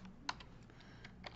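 A few soft, faint keystrokes on a keyboard while an algebra inequality is entered into a calculator, with one sharper click among quieter taps and no talking.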